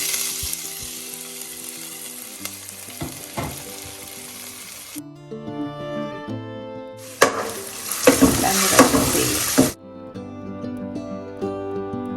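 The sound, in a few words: crushed ginger and garlic sizzling in oil with mustard, fenugreek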